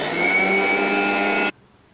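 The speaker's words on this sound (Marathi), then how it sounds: "एकदा मिक्सरमधून वाटून घेणार" A kitchen mixer grinder whirs loudly and steadily as it blends peanut chutney with salt and red chilli, then stops suddenly, leaving near silence.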